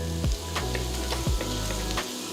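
Creole cornbread dressing sizzles steadily in a pan on an induction top, a continuous bright frying hiss with a few stirring scrapes and no voices.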